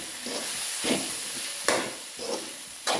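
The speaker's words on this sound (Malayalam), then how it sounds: "മഞ്ഞൾപ്പൊടി ഇട്ട് കൊടുക്കാം. ഇളക്കി കൊടുക്കാം. ഒക്കെ ഒന്ന് മൂത്ത് വരട്ടെ." Chilli powder, coriander powder and turmeric sizzle as they fry in a pan, with several distinct scraping stirs at intervals over the steady hiss.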